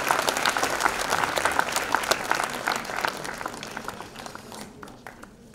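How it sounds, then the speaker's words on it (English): Applause from a conference audience welcoming a guest to the stage: dense, steady clapping from a large crowd that fades gradually over about five seconds. "A big round of applause, please."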